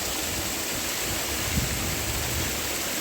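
Fresh water rushing through a mesh screen at a trout farm on a mountain trek, a steady, dense close-up gush with no pauses and no voices.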